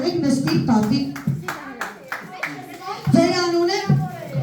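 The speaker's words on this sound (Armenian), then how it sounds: "եկեք ծափերով պապիկին ոգևորեք" An audience at a children's event claps to cheer on a grandpa, rhythmic rounds of clapping under loud talk from a host and children's voices.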